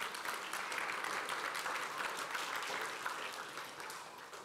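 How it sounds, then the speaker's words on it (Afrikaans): Church congregation applauding during a family service: steady, broad clapping from many hands, moderately distant and even, fading slightly toward the end. "Geef haar asseblief 'n hande klap"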